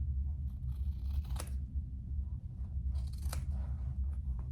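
Scissors snip through a sewing pattern for a sling, with two or three crisp cutting strokes over a steady low background rumble.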